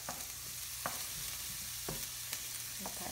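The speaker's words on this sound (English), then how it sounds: "And then I'm gonna add 1 of my tablespoons of butter." Butter melting over garlic in a pan gives a faint, steady background sizzle, with a few soft clinks of a utensil against the pan spaced about a second apart and no voices.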